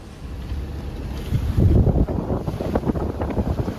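Wind buffets a sailing boat running through choppy water, with a steady rushing roar and slapping water surging louder midway through, and no one speaking.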